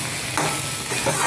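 A brief, close burst of sizzling and stirring as kasuri methi, dried fenugreek leaves, goes into a hot pan, steady frying crackle with a spoon scraping.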